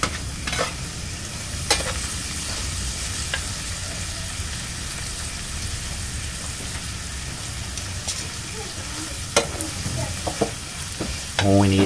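Salted fish frying with basil in oil gives a continuous soft sizzle with sharp clicks and utensil knocks scattered throughout, steady and close.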